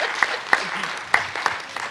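Brief applause from a theatre audience at a dance conversation event, a few moderate, scattered claps.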